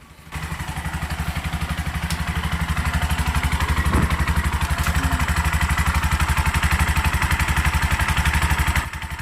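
A Bajaj RE tricycle engine, one with a faulty charging regulator, starts up and runs at a steady rapid putter, loud and close, with a brief clatter partway through and no talk.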